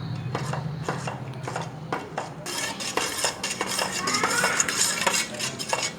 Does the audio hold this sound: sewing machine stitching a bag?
no